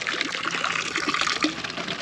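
Cold water from a village well runs into a drinking bottle outdoors on a hot day, a close, steady trickling and splashing that carries on without pause and with no talking.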